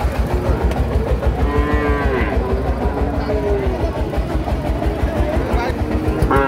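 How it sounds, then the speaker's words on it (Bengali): A Sahiwal bull calf lows at a busy cattle market, with a drawn-out moo rising over a steady crowd din and continuous loud chatter from people nearby. "শাহিওয়াল ষাঁড় বাছুর।"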